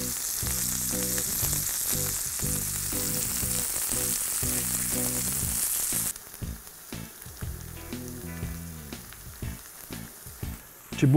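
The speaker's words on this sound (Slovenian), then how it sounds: "jo opekel na oljčnem olju" Onions sizzling and frying in olive oil in a pan, a steady loud crackle that drops off sharply partway through, leaving quieter, uneven sizzling.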